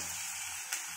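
Onions frying in a pan until they turn red, a steady bright hiss of sizzling oil with one brief louder spit near the end, close and continuous.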